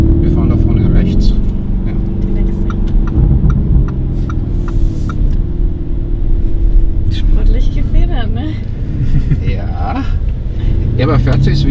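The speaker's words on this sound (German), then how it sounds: "das ist jetzt nicht ein Auspuff drunter, sondern eine Abgasanlage von Agrabovic" A Lamborghini Urus fitted with an Akrapovic exhaust system drives along, its engine a steady deep rumble heard from inside the cabin, continuous throughout while people talk over it.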